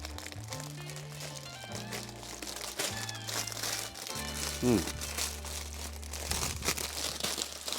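Plastic bag crinkling and rustling as a silicone mat is pulled out of it, with a brief tearing crunch midway; steady rustle sits under a low drone and faint background tones, no talk over it.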